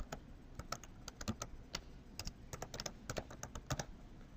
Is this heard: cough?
no